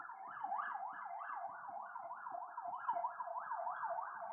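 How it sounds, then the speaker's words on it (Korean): An ambulance siren wails continuously outside, its rising and falling tone repeating steadily at moderate distance, with faint low traffic rumble beneath. "지금 이 나라가 위험해진 소리를 앰뷸런스가 지금 들려주고 있는데"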